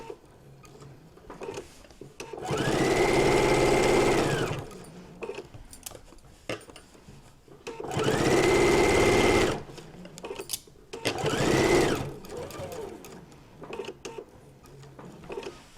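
A sewing machine runs a diagonal stitch in three separate bursts, each lasting about one to two seconds. The motor's steady whir is loud and close, and quiet ticks and handling sounds fill the pauses between runs.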